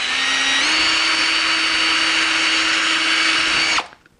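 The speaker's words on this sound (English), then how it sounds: "So I have a 3/16 bit on my drill, and I'm going to just drill a hole through the top," Power drill fitted with a 3/16 bit whines loud and steady while boring through a dried gourd, rising slightly in pitch early on, then cutting off and spinning down.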